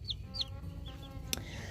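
Soft, brief chicken sounds: a few high clucks and chirps over low background noise, with a sharp click near the end.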